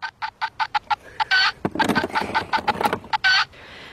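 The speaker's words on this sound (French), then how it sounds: "Et elle caquette fort." A hen clucks loudly and close by in a quick, rhythmic run of sharp repeated calls that bunch into a rapid agitated burst, then ease back into spaced clucks.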